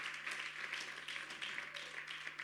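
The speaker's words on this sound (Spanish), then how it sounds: "Aplauda al Señor Jesucristo." A congregation claps in a church service, a soft, even patter of many hands that carries on steadily throughout, heard at some distance and fairly quiet.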